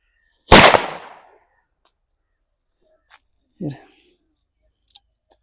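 A Valangaiman country firecracker goes off with one loud, sharp close blast that decays over about a second, followed by a few faint scattered clicks and thuds.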